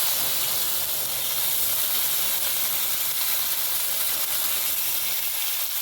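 Curry leaves and coriander sizzle and hiss steadily in hot oil for a fish curry, a continuous close crackling spit with no talking.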